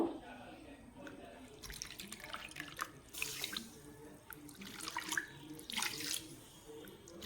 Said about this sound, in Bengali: এই কাপে মাপে আমি তিন কাপ জল দিয়ে দিব